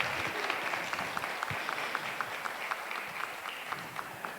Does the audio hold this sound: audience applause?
yes